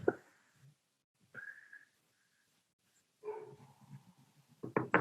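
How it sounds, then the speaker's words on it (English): Pet dog barking in another room of a house, with a couple of sharp bursts and a longer whining yelp coming through a closed door, faint and intermittent with quiet gaps between. "can you hear my dog barking or no?"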